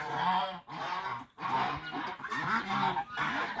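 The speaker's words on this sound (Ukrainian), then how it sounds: "Перед вами кубанський гусак." A Kuban gander honks loudly and repeatedly at close range, a series of harsh nasal calls in quick succession with brief pauses between bursts.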